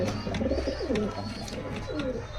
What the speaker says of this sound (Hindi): ये देखो बहुत ही प्यारे प्यारे कबूतर है जी